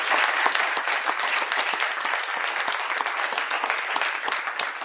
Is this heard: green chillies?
no